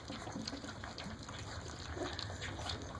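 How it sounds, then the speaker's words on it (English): Litter of 22-day-old puppies lapping and chewing soaked puppy chow, a soft, continuous wet smacking and slurping close by, with no voices. "That is the sound of Pups graduating to puppy chow today."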